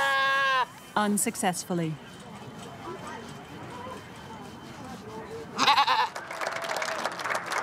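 A young goat bleats loudly several times in quick succession, close by, calling for help; the cries fade and a narrator's voice continues over quiet background, with more animal noise returning near the end.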